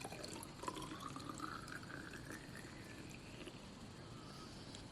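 Melted wax from recycled used candle sticks is poured into a container in a soft, steady liquid trickle that runs for several seconds at a low level, with no talking.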